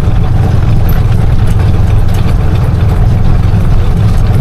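Close, continuous low drone of a Bajaj RE tricycle's running engine, steady and loud with no one speaking.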